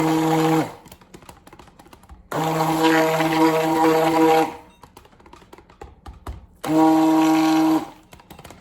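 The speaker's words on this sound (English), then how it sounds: "I think I'm going to stick blend this for 3 seconds" An immersion blender mixing soap batter buzzes in three short bursts, the whirring motor cutting in and out with quiet clatter in the gaps.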